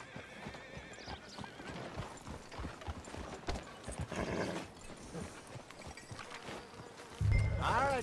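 Horse hooves clip-clopping at a walk in the video game Red Dead Redemption 2, a steady, moderately close rhythm of hoofbeats with a horse whinnying near the end.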